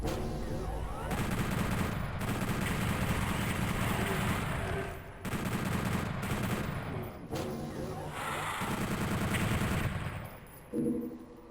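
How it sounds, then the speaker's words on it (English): A chaingunner's machine gun in PlayStation Doom 64 fires long, loud continuous bursts broken by short pauses, with an abrupt final burst at the end. "Chain gunner jump scare."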